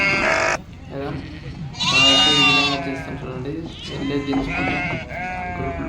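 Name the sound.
sheep bleating while being unloaded from trucks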